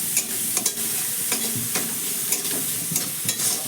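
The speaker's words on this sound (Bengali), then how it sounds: "এখানে ছানাটাও হালকা করে ভাজা হয়ে গেছে।" Chhana (cottage cheese) with a little turmeric is stirred and fried in a pan, giving a steady sizzle broken by repeated scraping stirs, close and fairly loud, with no voices.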